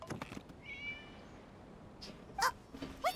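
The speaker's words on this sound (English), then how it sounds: "It was just a cat." A cat meows in Genshin Impact, with two short, fairly faint cries near the end, set against quiet ambient game sound.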